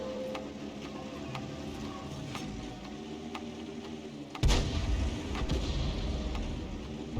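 In a World of Tanks match, an M40/M43 self-propelled gun fires one heavy artillery round, a sudden deep boom standing out over quiet ticking game sounds and a low background hum.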